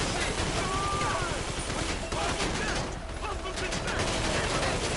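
Rapid bursts of gunfire in a PS4 shooter game, sharp repeated shots and automatic fire crackling over a busy game soundscape while someone talks.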